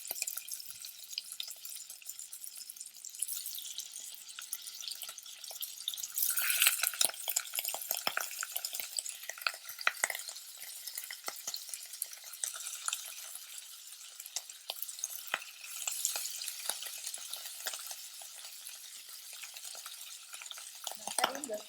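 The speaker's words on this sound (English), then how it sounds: "Add in the pork belly. Turn the fire to a small fire." Pork belly fries over a small fire, with a steady, crackling sizzle and repeated scraping stirs in the pan, close and continuous.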